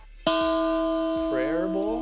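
A single struck metallic tone played on a guitar rings out and sustains, humming and wavering like a singing bowl, fading slowly.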